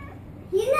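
A cat meows for food, one short rising cry close by in the second half after a quiet moment.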